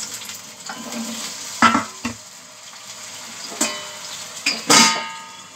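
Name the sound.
frying taro (kochu) pieces in a pan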